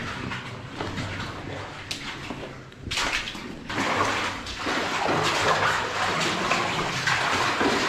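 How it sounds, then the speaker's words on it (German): Water runs steadily through a humid, low-ceilinged tunnel at an abandoned site in Germany, a continuous rushing wash that grows fuller partway through, with no talking. "das Wasser in die Richtung läuft, in die wir laufen"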